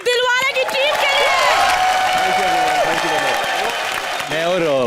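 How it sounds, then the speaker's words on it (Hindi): A studio audience at a Hindi TV comedy show breaks into loud, sustained applause and cheering, thick and continuous, under loud tonal music and whooshing effects. "एक बार जोरदार तालियां दिलवाले की टीम के लिए।"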